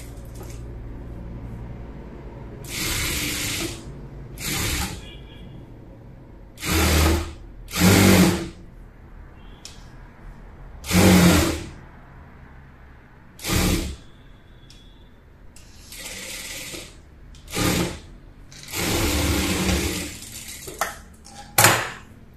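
Sewing machine stitching a child's frock for a two-year-old, running in several separate bursts of rapid whirring with short pauses between them, close and fairly loud, with no talking.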